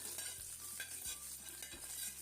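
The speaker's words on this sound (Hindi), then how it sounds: "इसी कढ़ाई में हम ना वेजिटेबल फ्राई कर लेंगे।" Vegetables frying in a kadai for a chicken Manchurian dish, heard as a faint, steady sizzle with a few soft stirring scrapes over about two seconds.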